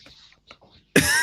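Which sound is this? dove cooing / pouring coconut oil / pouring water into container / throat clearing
throat clearing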